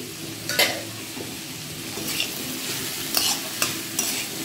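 A spatula stirs spice paste into food frying in a pan, giving repeated sharp scrapes at an uneven pace over a continuous close sizzle.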